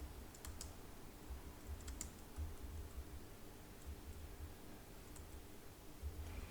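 Faint, quick clicks of fingers typing on a computer keyboard come in short irregular bursts over a steady low room hum, with no talking.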